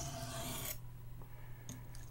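Rasping strokes of a Buck 110 knife's edge bevel drawn across a sharpening stone, one loud scrape followed by quieter rubbing, close up.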